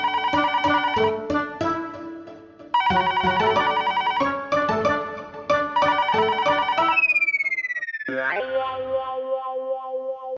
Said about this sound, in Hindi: फिर से फोन, ये जरूर नट्टू काका और भागा का होगा।